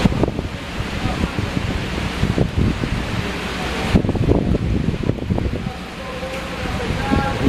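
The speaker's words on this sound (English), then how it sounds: "Trying to see if I can get a good gust of wind for you guys." Hurricane-force wind gusts roar across a microphone outdoors on a Florida night, a loud, rough, continuous rushing with surging buffets and no clear speech.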